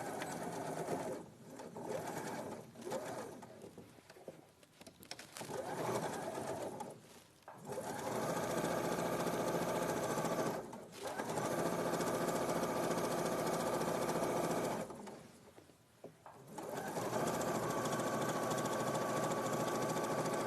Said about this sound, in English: now I will sew all this